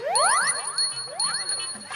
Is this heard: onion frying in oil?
no